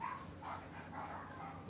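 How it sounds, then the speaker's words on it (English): Several dogs barking at a postman at the door, a steady run of muffled barks and yips heard from another room, continuous and moderately loud. "My dogs are going nuts at someone."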